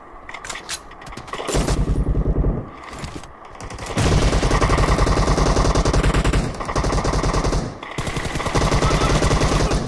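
Rapid automatic gunfire in the video game BGMI: loud, dense bursts of machine-gun shots in several sustained volleys separated by brief pauses, with no talking.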